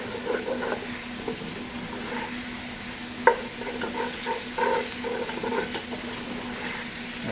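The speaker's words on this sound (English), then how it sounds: "we want to get all that food residue off the bottom of the pan" Chicken fries in a pan with a low, steady sizzle while a utensil scrapes residue off the bottom in short strokes, with one sharper knock midway.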